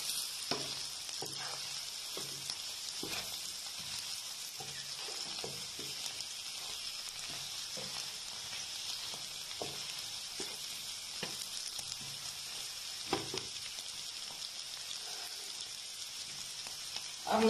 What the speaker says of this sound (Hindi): ये काली मिर्च डाल दी मैंने और इसको भी थोड़ा सा भूनेंगे